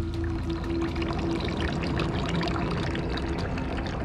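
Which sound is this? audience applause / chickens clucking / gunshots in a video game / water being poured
water being poured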